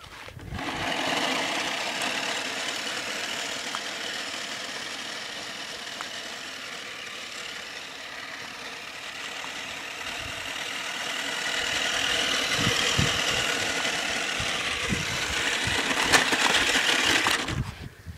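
A Ford Mustang Boss engine runs during a daytime test drive, producing a continuous drone that swells in the second half. No voices are heard.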